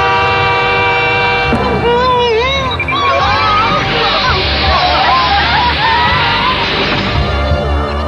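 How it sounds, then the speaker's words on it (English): A cartoon train rumbles in with bright whistle-like horn tones over lively music, while voices chatter and exclaim underneath. "Oh no! It's a great big train!"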